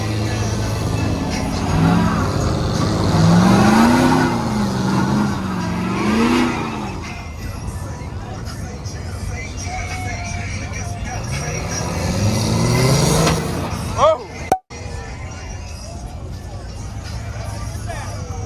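A mud truck revs through mud in rising and falling engine surges, then a sharp bang near the end, with people talking and chattering over it throughout.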